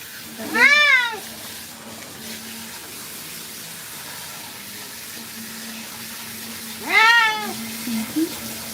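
A long-haired cat gives two drawn-out, rising-and-falling meows several seconds apart during a bath, close to the mic, over a steady low hiss of running water.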